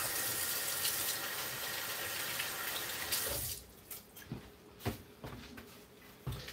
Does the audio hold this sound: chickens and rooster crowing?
no